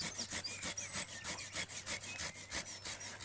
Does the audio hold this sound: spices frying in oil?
no